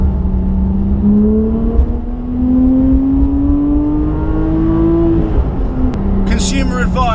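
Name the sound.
Porsche 997.2 GT3 RS sliding on slippery mud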